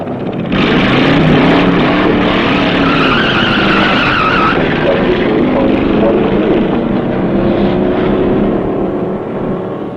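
A car is pushed hard at a test spot, tires skidding and squealing continuously over a loud engine roar for about ten seconds, with voices mixed in.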